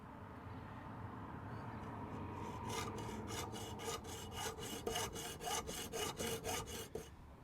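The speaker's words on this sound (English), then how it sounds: "So I'm going to cut across this part here, just using a hacksaw." Hacksaw cutting across a piece of precious nguru material; a steady rasping builds into regular back-and-forth strokes, close and fairly quiet, with no talk.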